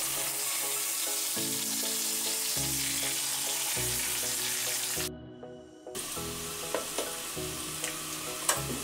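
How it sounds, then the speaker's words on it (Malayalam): Karimeen pearl spot fish wrapped in banana leaf is laid into a hot pan, crackling with a loud close sizzle that briefly drops away, then resumes with scattered pops. "ആദ്യം ഞാൻ വാഴയിലയിൽ പൊതിഞ്ഞ മീൻ വെക്കുകയാണ്."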